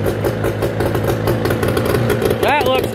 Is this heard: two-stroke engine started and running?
yes